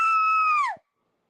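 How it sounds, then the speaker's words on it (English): One loud, piercing human scream lasts well under a second, holds a steady pitch, then drops off abruptly into silence. "Y'all gonna say, why the hell did you scream?"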